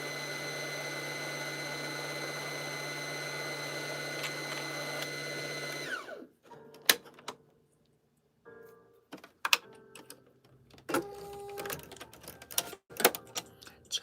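A sewing machine whirs steadily at a constant hum, then winds down and stops, followed by scattered clicks and handling noises nearby.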